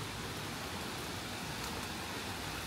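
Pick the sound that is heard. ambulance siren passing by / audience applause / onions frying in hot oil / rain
rain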